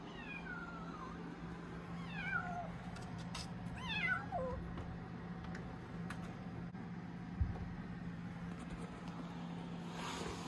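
A cat meows several times in short, rising-and-falling calls, moderately close, over a constant low engine-like hum and background noise, during an auction in Los Angeles.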